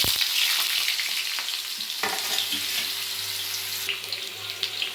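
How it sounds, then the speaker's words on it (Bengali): Cut potatoes fry in hot oil with a pinch of turmeric, giving a dense, close, steady sizzle with a few small clatters as they are turned. "আলুগুলোকে ভেজে নেওয়ার জন্য দিয়ে দেব সামান্য পরিমাণে হলুদ, খুব ভালোভাবে আমি এগুলোকে ভেজে নেব"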